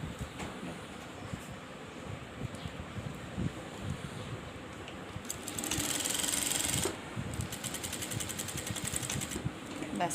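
A sewing machine stitches a sleeve seam in short, quiet bursts of rapid mechanical clatter, with a louder continuous run in the middle, heard close up in a quiet room.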